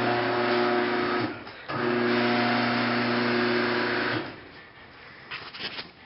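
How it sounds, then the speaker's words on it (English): A garage door opener motor with a stripped gear runs with a steady, loud mechanical whine and hum, cuts out briefly, restarts, then stops, leaving faint handling noises. "the motor's running, but nothing else is happening"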